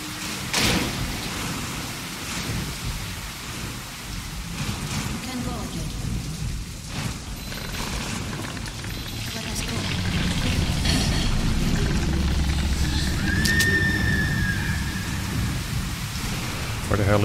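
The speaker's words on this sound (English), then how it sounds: "There are some storms." Rain and thunder in the video game Metro Last Light Redux, a steady wash of rainfall with rumbling thunder that swells louder in the second half, with a voice speaking briefly over it.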